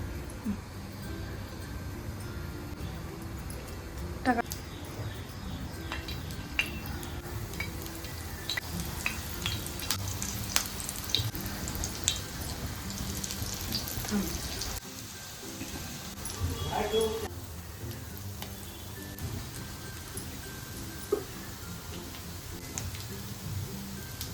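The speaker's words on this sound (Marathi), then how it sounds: "आता भाजून घेऊया. 4 चमचे तेल टाकूया." Drumstick-leaf vadi shallow-frying in a pan of oil, giving a steady, close sizzle with small crackles and pops throughout, with a voice speaking now and then over it.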